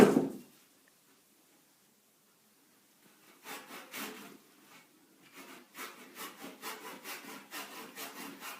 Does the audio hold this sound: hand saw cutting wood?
yes